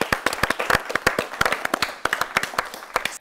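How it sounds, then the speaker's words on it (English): Sparse, individual hand claps from a quiz show audience applauding a sponsor organisation, sharp separate slaps in an uneven rhythm, close and fairly loud with no talk. "Can we have a huge round of applause for PCRA?"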